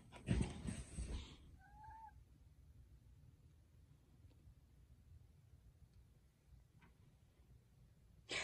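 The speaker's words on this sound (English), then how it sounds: "This is my beautiful kitty." A pet cat gives a short meow near the start, followed by a long stretch of quiet room noise, with a brief faint sound at the very end.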